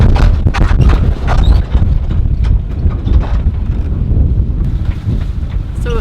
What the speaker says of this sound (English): So we found the wind.